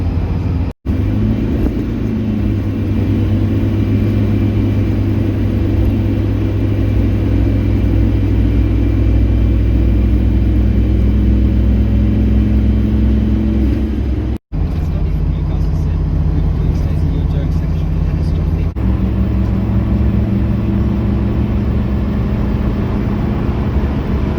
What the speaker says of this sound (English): As any car guy does, he gives his tyres a hard time when he's on the way